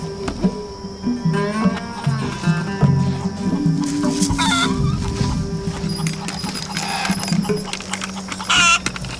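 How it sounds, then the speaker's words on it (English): Chickens cluck and squawk up close at an open marketplace scene, with overlapping calls and a busy background of other noise; no clear speech over the birds. "should we feed the chickens some more?"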